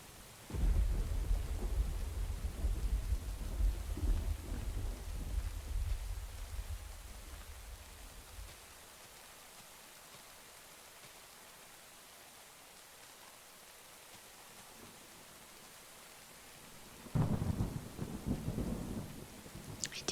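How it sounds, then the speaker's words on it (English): Thunderstorm with steady rain, a long deep rolling thunder rumble close by that fades away, light rain continuing softly, then another loud thunder crack and rumble near the end, with no voices. "I do love a storm."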